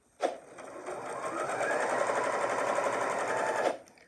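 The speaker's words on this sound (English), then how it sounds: "I'm just going to do a top stitch to close up that opening" A Janome sewing machine top-stitches a tote bag lining closed, starting with a sharp clunk, then running as a steady whirring motor for about three seconds before stopping, close and clear with no voices.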